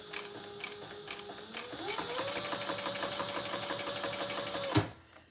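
A sewing machine threaded with plain lavender thread stitching the Monarch Mini design, running in a fast steady whir that speeds up partway through, then stops abruptly near the end.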